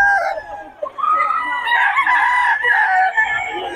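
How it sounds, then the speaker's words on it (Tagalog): Fighting roosters crowing at a market in Bocaue, several overlapping loud calls close by amid a busy crowd murmur, with no clear talk. "Solid mga manokis ni Boss Steve"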